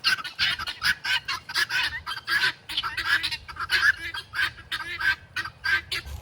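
Honking birds that follow along on foot keep up a loud, choppy chorus of repeated calls nearby, nasal cries stacking into a near-continuous clamor.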